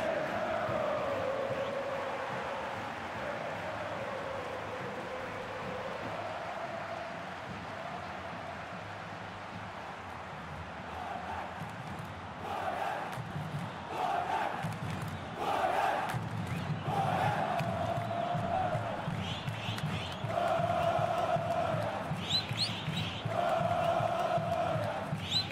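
A stadium crowd in the PES 2020 football video game, Goiás against Fortaleza in the 2020 Brasileirão, keeps up a steady roar of chanting and cheering that swells in the second half, with no talk audible.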